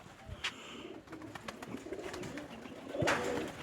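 Pigeons coo softly in a low, throaty murmur, with a few flutters and scuffs nearby; no voices.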